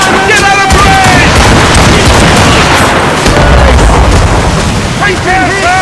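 Ship cannons boom in a naval battle in Assassin's Creed Rogue, loud and dense, a rolling barrage of blasts under constant chaotic battle noise, with shouting voices scattered throughout.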